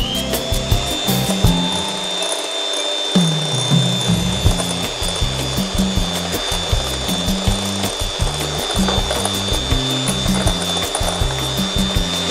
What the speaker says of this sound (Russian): аккуратненько добавляем и на маленькой скорости начинаем взбивать